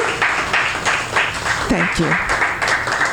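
Audience applause at a live variety show, steady moderate clapping throughout, with a performer briefly speaking over it.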